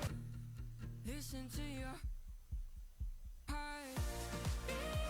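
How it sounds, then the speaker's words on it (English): A hollow bass drum in a Latvian Eurovision entry pulses in a steady double-beat pattern like a heartbeat, thudding alone in a sparse middle stretch between fuller passages of singing and music. "that empty bass drum sort of mimicking a heartbeat"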